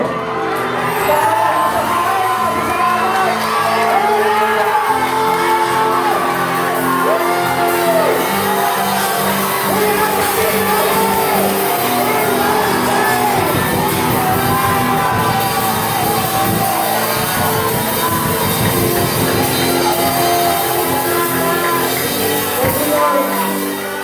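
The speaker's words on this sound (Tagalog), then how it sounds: "Isang malakas na sigaw." A church congregation at a Sunday service shouts loudly together, a dense, sustained roar of voices with whoops and cheers that fills the room for the whole stretch.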